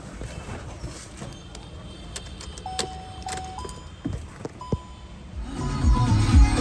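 Electric power windows and door locks on a 2017 Hyundai i20 Asta diesel operate nearby, with short motor whirs and several sharp lock clicks, followed by rising interior rustling toward the end.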